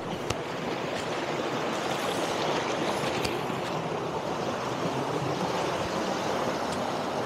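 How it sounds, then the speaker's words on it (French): A small waterfall tumbles over rocks in a mossy stream, giving a steady, close rushing of water. The sound holds at an even level throughout with no voices. "vraiment pas mal cette petite cascade"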